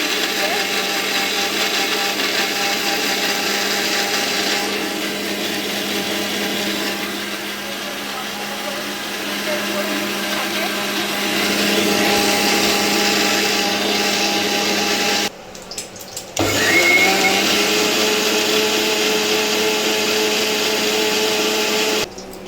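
Mixer grinder whirring as it grinds onion, dried red chilli, whole coriander seed and whole cumin into a spice paste, a steady motor drone running for about fifteen seconds, a short pause, then resuming.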